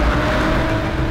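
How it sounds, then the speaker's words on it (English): A Gran Turismo 7 car engine roars in a loud, sustained, close drone with a constant low rumble throughout. "in the roar of your engine"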